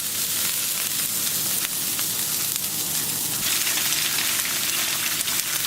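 Grapeseed oil and grease sizzle steadily on a hot Camp Chef flat-top griddle, a dense, even crackling hiss that carries on without a break.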